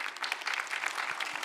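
A church congregation applauds during a Sunday worship service, a dense, steady patter of many hands clapping at close range, continuous throughout.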